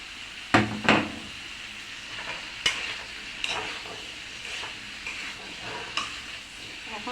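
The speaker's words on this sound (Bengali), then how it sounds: "এখন এই শসা দিয়ে আমি খুব ভালো করে মশলার মাধ্যমে বেড়ে ছেড়ে ভালো করে কষাই নেব" Cucumber and tomato stir-fried with spices in a pan, with a steady low sizzle under sharp scraping stirs, two loud strokes near the start and lighter ones spaced through the rest.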